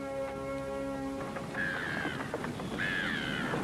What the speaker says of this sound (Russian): Птицы!